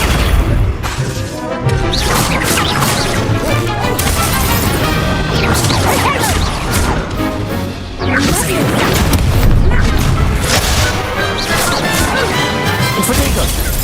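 Loud, dense game effects crash and whoosh without pause as the Accio summoning spell is cast in Hogwarts Legacy, layered impacts and sweeping bursts filling the whole stretch.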